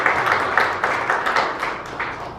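Steady applause from an audience at a Korean community gathering in Atlanta, many hands clapping in a dense, moderately loud patter with rhythmic swells throughout.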